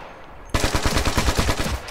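An AK200 rifle in Ghost Recon Future Soldier fires a rapid automatic burst: loud, close, evenly spaced shots start abruptly and run for over a second before stopping.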